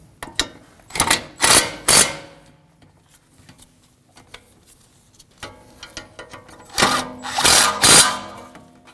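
Bolts on a Honda Pilot front wheel bearing job are snugged down with a power tool in two sets of short, loud, whirring and ratcheting bursts separated by quiet clinks of handling.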